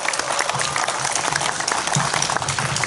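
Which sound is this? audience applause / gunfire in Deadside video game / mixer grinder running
audience applause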